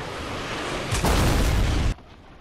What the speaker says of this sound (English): I'm using rocket launcher